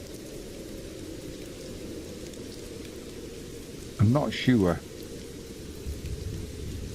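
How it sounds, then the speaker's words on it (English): Steady rain pouring down at Prenton Park football stadium, a constant broad hiss throughout, with someone speaking briefly over it midway. "Oh, look at the rain coming down in at Prenton Park."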